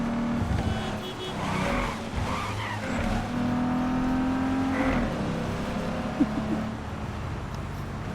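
Car driving and skidding in Cyberpunk 2077 near Marina Del Rey, a steady engine drone with a long rising tire squeal around the middle, under gunfire-tense play with no speech over it.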